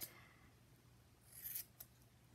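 Scissors cutting spun cotton doll hair, heard as a few faint, quiet snips and rasps close by, with a slightly stronger pair of cuts near the end.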